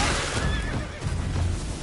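Horse in Elden Ring lets out a loud, close whinny with a wavering pitch over a dense wash of game noise and muffled hoof thuds.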